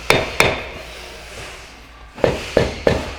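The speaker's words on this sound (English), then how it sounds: "a couple of taps with a hammer" Sharp metallic hammer taps, two quick strikes then three more after a pause, ringing briefly on a rally Volkswagen Beetle's rear brake drum up close.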